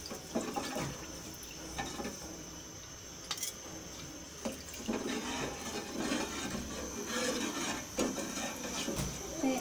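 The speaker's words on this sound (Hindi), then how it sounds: "अब मैं ये आहिस्ता आहिस्ता कस्टर्ड के पानी को इसमें डाल लूँगी और मैं चम्मच हिलाती रहूँगी" Liquid custard mixture is poured slowly into a pot on the stove while a spoon stirs it. Soft watery trickling runs throughout, with occasional faint clinks and taps of the spoon against the pot.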